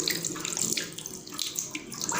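Water gushes steadily from an opened tap in an apartment building plumbing check, a continuous splashing rush with no voices.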